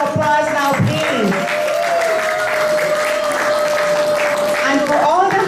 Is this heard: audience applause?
yes